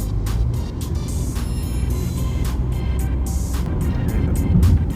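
A car cruises along a main highway in Kuwait, a steady interior road roar with low rumble and a faint higher whine, continuous and close, with no one speaking.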